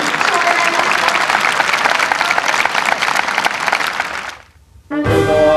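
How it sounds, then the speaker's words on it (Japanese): Generous applause from a crowd at a company sports festival, dense steady clapping for about four seconds before fading out, followed by a brief louder burst of other sound. "この惜しみない拍手が教えてくれる"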